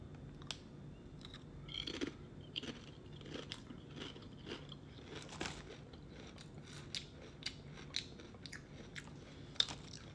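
Roasted fish chips are bitten and chewed close to the mic with quiet, repeated crisp crunches in an irregular rhythm, alone and without talk.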